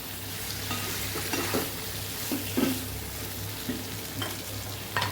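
Ridge gourd and potato curry with tomatoes sizzles in a pan, a steady close frying hiss punctuated by several light scrapes and stirs of a utensil.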